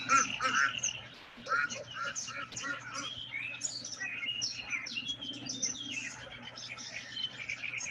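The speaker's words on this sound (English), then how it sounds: "you can still hear the ducks" Ducks, including Muscovy ducks, call near water, their chirpy, quacking notes repeating softly at a distance over a steady low hum and faint running water throughout.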